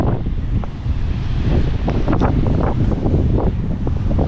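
Stormy wind roars across the microphone as ocean surf pounds a beach on the Outer Banks, a loud continuous wash of wind and breaking waves close by.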